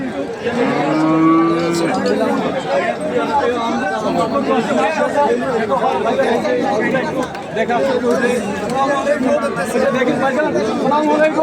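Cattle low and moo repeatedly at a crowded Eid al-Adha cattle market in Chandgazi, Chhagalnaiya, Feni, with a loud, drawn-out moo near the start and constant chatter from people around the animals throughout.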